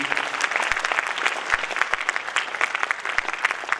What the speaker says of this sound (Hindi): एक बार जोरदार ताली हम बजा करके